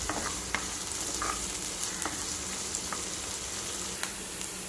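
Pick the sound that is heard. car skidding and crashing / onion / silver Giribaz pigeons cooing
onion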